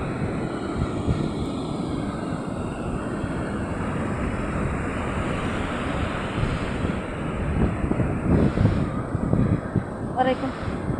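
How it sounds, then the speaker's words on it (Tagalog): Large sea waves crash onto a beach in a continuous, broad roar, heavily mixed with wind buffeting the microphone, with surges swelling louder toward the end. "Kaso sobrang laki talaga ng alon guys"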